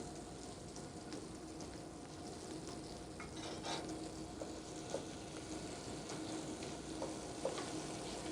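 Sea scallops sear in a hot pan with a steady, soft sizzle and frying crackle, faint and close, with a few small pops.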